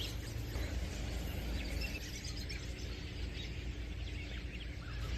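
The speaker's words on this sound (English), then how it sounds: "there's an awful lot of birds talking" Many birds calling and chirping at once in late December in Maine, a dense, continuous chorus of overlapping tweets at moderate distance, no talking.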